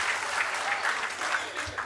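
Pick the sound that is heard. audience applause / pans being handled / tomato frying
audience applause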